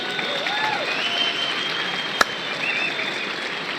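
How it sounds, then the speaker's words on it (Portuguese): A crowd applauds Medina at a lively Brazilian campaign-style event, with steady clapping, faint whistles or cheers above it, and a single sharp pop midway. "Uma salva de palmas pro Medina, né,"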